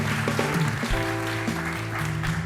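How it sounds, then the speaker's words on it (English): Studio audience applause on a live dating show, a steady crowd clapping blended with sustained music playing underneath at an even, fairly loud level. "Round of applause."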